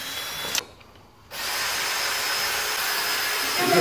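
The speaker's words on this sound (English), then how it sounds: "We're going to put in a unibit." A power drill fitted with a unibit step bit drills a hole for a potato gun igniter. A short burst is followed by a pause, then a loud, sustained, close whine of the drill as it bites and runs.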